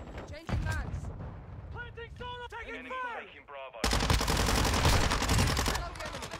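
Rapid bursts of automatic gunfire in a video game shooter match, loud and sustained in the second half, following game voice callouts and mechanical effects.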